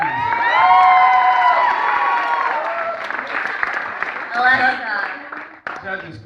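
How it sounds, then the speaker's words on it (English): A crowd at an English camp in Ensenada claps and cheers loudly after a performance, with shouts and whoops, the applause fading and voices and harmonic musical tones taking over toward the end. "Another round of applause, please."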